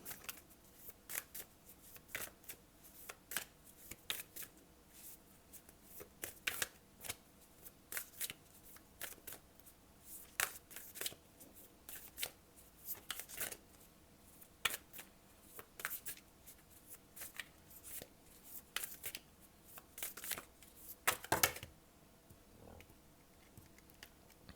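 Tarot cards shuffled and drawn by hand, a long run of quiet, irregular flicks and snaps spaced across the clip, close and soft with a brief riffle burst near the end.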